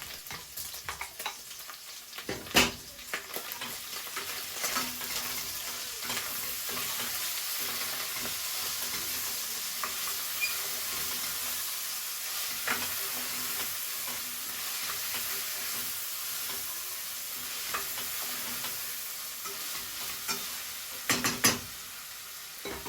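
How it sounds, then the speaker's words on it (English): Onions frying in a pan with a soft continuous sizzle, broken by occasional scraping knocks as they are stirred, moderately quiet and steady. "In goes the onions. Stir them in and let them soften and bring out that flavor."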